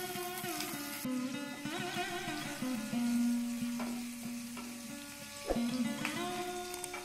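Ginger paste fries in hot oil in a pan, a soft steady sizzle with scraping stir strokes and light clinks of the spoon on the pan, close and fairly quiet.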